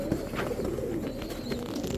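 Pakistani Teddy pigeons coo in low, steady murmurs against a constant background hum, fairly faint and continuous, with no voices.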